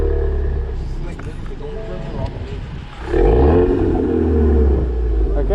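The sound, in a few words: Subaru BRZ car engine revving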